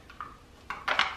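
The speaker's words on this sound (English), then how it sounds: "I'm just gonna stir this frosting up" A utensil scrapes and clinks against a bowl while frosting is stirred for holiday baking, a few brief, quiet strokes with the last pair louder.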